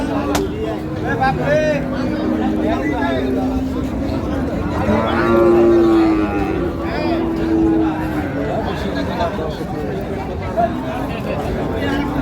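A cow with a calf moos loudly and repeatedly nearby at a cattle market in Dinajpur, long drawn-out lowing calls over a steady background of outdoor chatter and noise.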